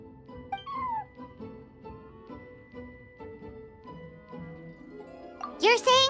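Meowing from a cat in the Genshin Impact game, a few short mewing calls over soft background music, rising to a louder, sharper cry near the end.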